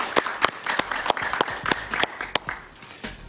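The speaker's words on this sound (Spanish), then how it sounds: "Un aplauso para él." Studio audience applause for a Venezuelan writer and journalist on a talk show, a few hands clapping in sharp, uneven bursts, close and fairly loud, with no talking.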